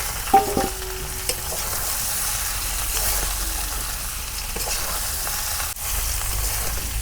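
Chopped onion frying in a pan for a village-style fish curry, giving a steady close sizzle with a few soft clinks of a utensil near the start.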